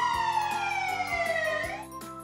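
A toy fire truck in a children's puzzle game sounds a single siren tone that slides smoothly downward over light background music, lasting about two seconds.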